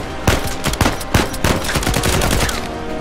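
Machine gun fire in the video game Uncharted 4 rattles out in rapid, loud bursts, sharp overlapping shots repeating over an ongoing din of battle for about three seconds.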